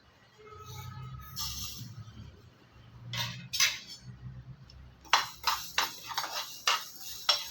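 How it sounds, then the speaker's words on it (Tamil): Fenugreek and mustard seeds dry-roasted in an empty kadai, heard as irregular metallic clinks and scrapes of a spoon against the pan, sparse at first and then in a quicker run of sharp knocks. "இப்போ வெறும் கடாயில் நான் அந்த வெந்தயத்தையும் கடுகையும் நான் வறுத்துக்க போகிறேன்"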